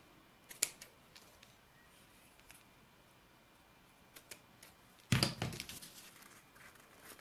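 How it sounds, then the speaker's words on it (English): Scissors trim the loose ends of a knotted ribbon on a handmade card, giving two quiet, crisp snips several seconds apart in an otherwise hushed room. "And then we'll just trim the ends."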